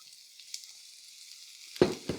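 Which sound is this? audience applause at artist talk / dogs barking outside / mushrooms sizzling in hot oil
mushrooms sizzling in hot oil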